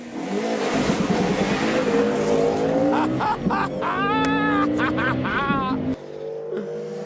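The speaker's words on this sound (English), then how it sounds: "That's how a Subaru needs to get out of the gate." A Subaru Impreza Type RA rally car launches hard off the start line on a track. Its engine revs loudly and climbs through rising gear pulls, with brief tyre noise, while people shout excitedly nearby.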